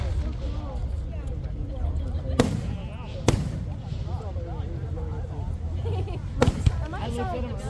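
Fourth of July fireworks show at Fort Moore: a few sharp distant bangs crack over a steady crowd murmur, with people talking throughout.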